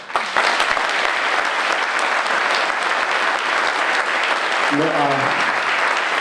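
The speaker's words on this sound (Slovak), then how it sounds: "Takže ešte raz jeden veľký potlesk." Large audience applause at an anniversary event in Svit, Slovakia, with loud, continuous clapping from many hands throughout and a short spoken interjection near the end.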